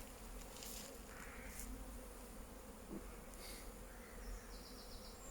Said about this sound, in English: judging by the bees, there's quite a lot of bees in here